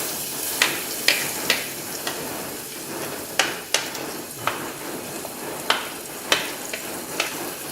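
Ginger and garlic hit hot spiced oil in a pan for an Indian potato and fenugreek dish, giving a steady soft sizzle with sharp crackles and pops scattered throughout, close and moderately quiet with no talk.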